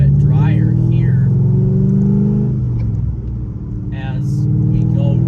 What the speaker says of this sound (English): One thing I'm getting used to with the Corvette is this LS sound.